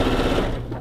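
A sewing machine runs a quilt seam in rapid, steady stitching bursts, close and fairly loud, with no talking over it.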